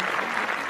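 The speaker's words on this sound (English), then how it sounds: "You deserve a round of applause." A short burst of applause, a dense patter of clapping hands lasting under a second.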